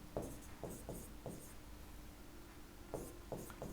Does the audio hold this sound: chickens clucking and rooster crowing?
no